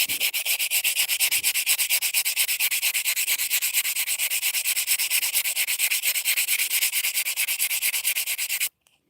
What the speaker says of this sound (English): just run that sandpaper over it a little bit